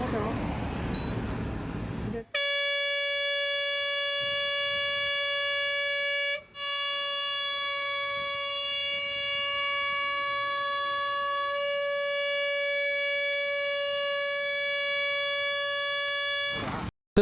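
A loud air horn fitted to a vehicle on a highway blares in one long, sustained, piercing tone that runs almost unbroken for about fifteen seconds, with one brief dropout near the start.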